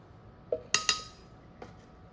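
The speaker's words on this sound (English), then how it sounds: "I'm using a tool like this to scoop it out into my blender." A metal carving tool scoops hard, dried-out pottery glaze into a blender, giving a few sharp clinks and scrapes spread over about two seconds, close and fairly quiet.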